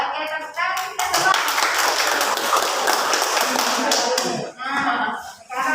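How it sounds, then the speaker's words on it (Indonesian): A group of people in a classroom guidance session claps together in a dense burst lasting several seconds, with voices talking just before and after. "Oke, tepuk tangan kita semua."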